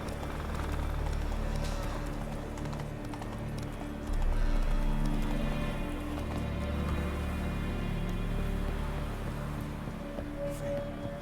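A horse gallops in The Witcher 3 with steady, dense clip-clop hoofbeats under an ambient game soundscape, continuous and moderately loud throughout.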